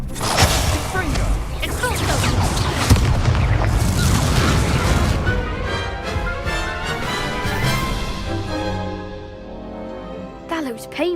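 In the Hogwarts Legacy video game, the Confringo explosion spell erupts in a loud, deep booming blast with rumbling debris and whooshes that fade into a ringing tail, with voices speaking over the noise.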